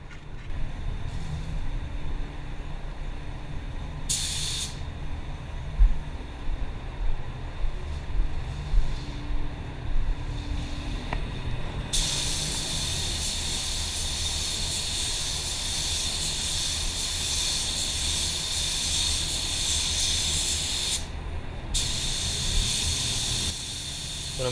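A steady pressurized hiss of a spray gun at 22 psi applying clear coat to a white car, starting in short bursts then running in long continuous passes over a low background rumble.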